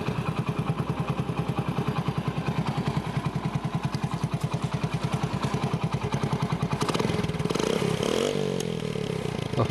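A restored Hero Honda Splendor motorcycle with a cleaned silencer runs close by in a steady, even putter, then picks up a brief rev with some clattering near the end.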